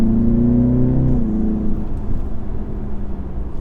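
A BMW G20 driving and accelerating, a steady close engine drone with a rising then settling tone over road rumble, no voices.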